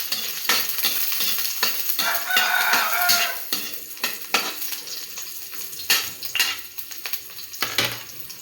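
Chopped garlic and onion sizzle and crackle in a hot frying pan, with repeated stirring scrapes and clinks of a utensil against the pan; a steady close-up fry with no talking.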